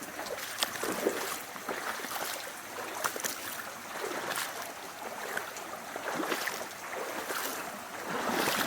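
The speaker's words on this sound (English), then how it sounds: "Might as well continue walking in the water here." Footsteps wade up shallow Christie Brook, each stride sloshing and splashing water close by in an uneven, repeating rhythm over a steady background of running water.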